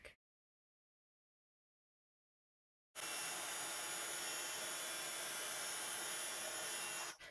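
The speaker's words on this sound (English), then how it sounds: "I'm just going to heat emboss this image. And I'm going to heat emboss it in black." A heat tool blows steadily and loudly for several seconds, embossing black powder onto an image on watercolour cardstock, preceded by a brief silent gap.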